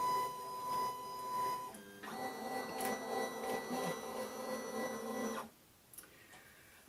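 A Silhouette Curio 2 cutting machine runs steadily for about five and a half seconds with a whirring motor drone and tonal hum, then stops abruptly and leaves quiet room tone with one small click.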